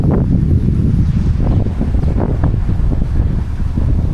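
Strong gusting wind roars and buffets the microphone while someone cycles on Nainativu island, a loud, continuous low rumble with no voices.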